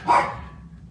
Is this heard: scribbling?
no